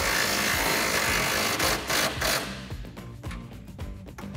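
An impact wrench hammers down a bull bar mounting nut on a 2019 Silverado 1500 frame rail, a loud continuous rattling buzz that breaks into short bursts and trails off toward the end.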